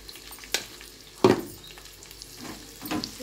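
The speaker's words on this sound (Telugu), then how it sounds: "ఆనియన్ని మంచిగా వేయించుకోండి." Onions with a pinch of salt frying in a pan, a soft steady sizzle broken by a few sharp stirring scrapes, close and fairly quiet, with no voices.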